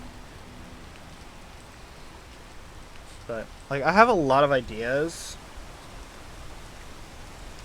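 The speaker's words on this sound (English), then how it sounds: "Well, I'm glad I realized it was starting to rain." Rain falling outdoors, a steady soft hiss holding throughout as a constant wash of noise, with a person talking briefly over it partway through.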